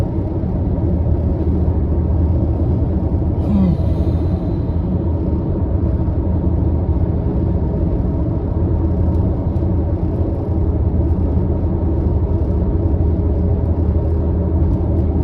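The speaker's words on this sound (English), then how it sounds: "car's working." A car engine runs steadily during a ride-along, a continuous loud low rumble and road drone throughout with no talking.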